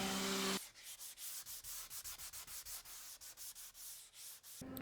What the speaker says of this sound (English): I'll use my power sander to go over the back and the top of the guitar